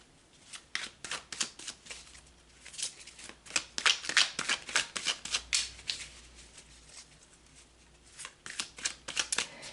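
Tarot cards are shuffled by hand in quick papery riffles and flicks, coming in clustered bursts with brief gaps, close and fairly soft, and no one speaking.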